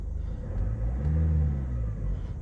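A Skoda Octavia car engine runs close by with a low rumble, rising briefly in a gentle rev before settling back.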